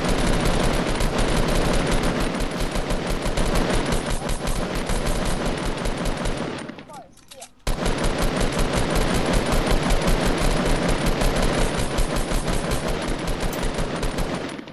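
Sustained automatic gunfire in the video game Fortnite, loud and rapid, continuous bursts with a brief pause midway before firing resumes just as densely.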